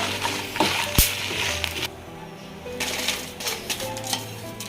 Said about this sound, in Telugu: ఇప్పుడు ఈ మిరపకాయలు తీసేసి పప్పులు వేయించుకుందాము